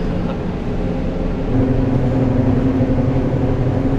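Fendt Katana 85 forage harvester with a big diesel engine idling low, then revving. It makes a loud, continuous rumble that swells to a steady droning tone partway through, with no talking over it.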